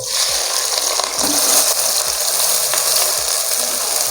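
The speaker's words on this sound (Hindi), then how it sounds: "तो मेरा ऑयल गर्म हो गया तो मैं इसी के अंदर ये प्याज डाल दूंगा।" Onions hitting hot oil for beef nihari set off a steady, loud sizzle and bubbling fry that holds evenly throughout, with a few faint clinks of a spoon beneath it.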